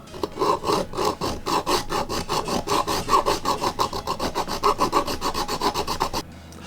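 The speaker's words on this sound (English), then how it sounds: "So I've been using my files and Dremel to work on the fitment." Metal files rasp rhythmically back and forth while fitting the handle of a replica sword, a steady series of close, loud scraping strokes about twice per second that stops near the end.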